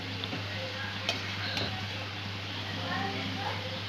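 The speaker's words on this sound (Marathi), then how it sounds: "दोन्ही साईड चांगली खरपूस तळून घ्यायची" Okra fritters (bhendi bhaji) deep frying in hot oil, a steady soft crackle and bubbling close by with a couple of faint utensil clicks, continuous for the whole stretch.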